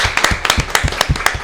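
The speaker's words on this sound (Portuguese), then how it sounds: "Vamos aplaudir essa pessoa." A small audience claps at a Bumba-meu-boi podcast recording, a brief run of loud, close, uneven handclaps with a few people joining.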